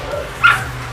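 An American Bully puppy lets out a single short, high yip close by, over faint background noise.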